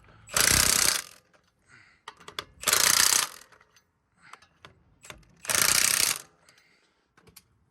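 A power tool tightens wheel spacer lug nuts on a 2019 Ram 1500 in three loud, close bursts of about a second each, separated by quieter clinks and handling noises.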